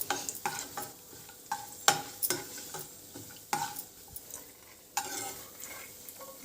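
Chopped cashews and thinly sliced almonds fry in ghee while a spoon stirs them, giving a continuous sizzle broken by repeated sharp scraping clinks against the pan, close and rhythmic.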